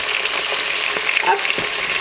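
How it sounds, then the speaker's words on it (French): Chicken browns in a pot with onion, garlic and mushrooms, a close, steady loud sizzle with faint stirring clicks throughout. "on ajoute l'oignon, l'ail, les champignons et on les fait dorer aussi un petit peu à leur tour"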